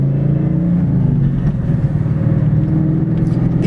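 Shelby American GT350 Mustang pulling hard in second gear on old tires, a loud close V8 roar climbing in pitch through a short burst of acceleration, heard from inside the car.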